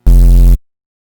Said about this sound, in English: So the other bass that I want to talk about is the disto stab